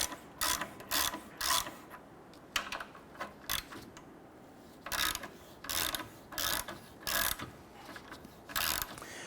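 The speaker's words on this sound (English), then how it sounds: "go ahead and remove our two studs from our catalytic converter using an inverted Torx bit number 10." A ratchet with an inverted Torx E10 bit backs out the catalytic converter studs on a 2005-2021 Nissan Frontier, close and fairly quiet. Short bursts of rapid clicking repeat in an irregular rhythm, with brief pauses between strokes.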